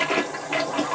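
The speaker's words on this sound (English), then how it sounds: "if you flush the toilet in the southern hemisphere, it goes the other way in the toilet bowl" A toilet flushes close by, a loud rushing swirl of water lasting about a second with no voices.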